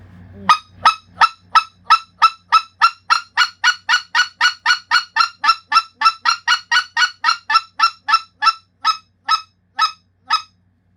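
A speckled goose call sounds a long run of sharp, evenly spaced single clucking honks, about thirty in a row, loud and close, speeding up slightly then slowing near the end.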